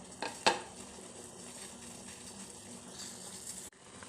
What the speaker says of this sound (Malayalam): ഇനി നന്നായി തിളച്ച് വരട്ടെ